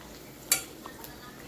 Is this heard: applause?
no